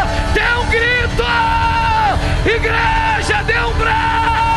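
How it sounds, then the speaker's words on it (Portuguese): A church congregation yells and whoops together in a loud, sustained crowd roar during a worship service, many voices overlapping continuously with rising and falling cries throughout. "Dê um grito, dê um grito, dê um grito,"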